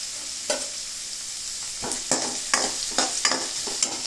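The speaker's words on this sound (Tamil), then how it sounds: "வெங்காயத்தை போட்டு ஒரு கிளறி அதோட 2 பச்சை மிளகா" Onions and green chillies frying in a pan for chicken curry, a steady sizzle punctuated by several spatula scrapes and taps, clustered in the second half, close and unaccompanied by talk.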